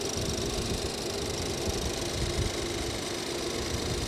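A Ford Fusion's EcoBoost engine idles steadily up close, a constant low mechanical hum and rattle with a faint whine above it, and no talking.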